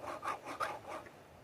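Round file sharpening chainsaw teeth, a few quick rasping strokes in a steady rhythm, close and quiet with no talking.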